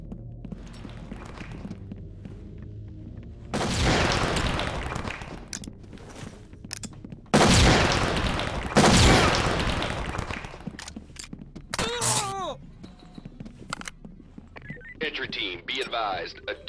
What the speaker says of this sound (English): the suspects are erratic and shooting each other